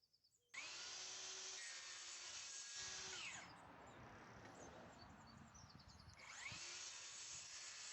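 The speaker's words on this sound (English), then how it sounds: "first of all I needed to saw it into strips" A power saw rips reclaimed oak, stripped of old stain and varnish, into strips outdoors, starting abruptly with a loud sustained whine that dips in pitch under load mid-cut, then rises again.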